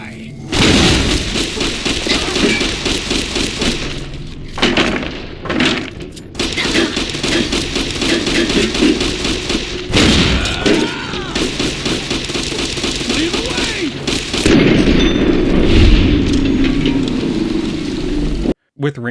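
Grenade launcher blasts and combat noise in Fallout: New Vegas at a gas station, with repeated loud bursts and thuds running almost continuously under a talking voice.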